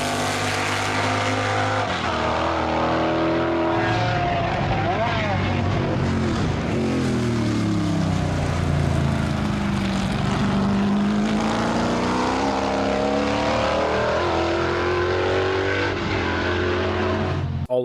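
A McLaren M8 Can-Am race car with a Chevy 427 engine roars loudly and close, its pitch sweeping up and down through repeated revs and gear changes over several seconds.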